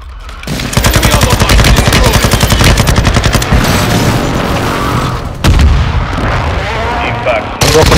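Heavy artillery fire from a called-in strike in a shooter video game: loud, rapid booms and blasts roll on almost without pause, with brief breaks and what sounds like a voice mixed under the barrage.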